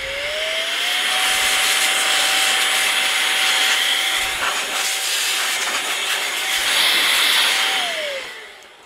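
A cordless compressed-air duster with the vacuum attachment removed spins up to a strong, steady airy whine with a rushing hiss, holds close and loud for several seconds, then winds down.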